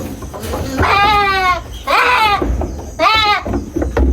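A sick, weak goat bleats loudly three times in a row, each cry wavering and drawn out, close by, with some background noise between calls.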